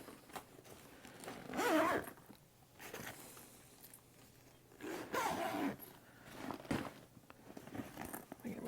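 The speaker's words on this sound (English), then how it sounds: "we can zip this up" A zipper runs along a fabric travel bag in a couple of quick pulls, faint and close amid rustling handling noise, with a person talking at moments.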